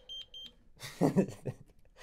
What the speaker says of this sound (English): That beep is right in my ear.